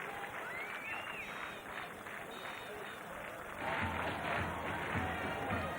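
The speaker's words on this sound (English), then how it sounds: "So capacity crowd at the Askiria Stadium." Capacity crowd at Asgiriya Stadium in Kandy for a 1996 World Cup cricket match between Sri Lanka and Kenya, a steady broad roar of the stands that swells louder partway through, with a commentator talking over it.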